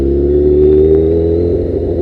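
A sportbike fitted with a Danmoto XG-1 exhaust, in place of a previous full Yoshimura TRX system, revs in a loud, steady, close-up drone with a slight rise and fall in pitch.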